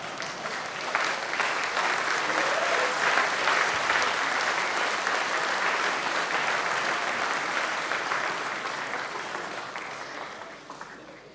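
Audience at a Dewesoft MC2024 opening ceremony claps loudly and steadily, a dense sustained wash of applause that keeps going before slowly thinning toward the end.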